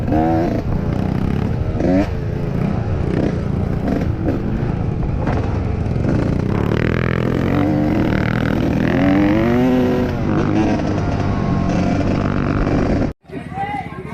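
Motorcycle engines roar loudly and continuously, revving and accelerating past during a trail ride through Ungaran, with a crowd babbling in the background.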